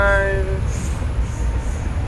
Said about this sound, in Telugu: ట్రైన్ డిపార్ట్ అయిపోయింది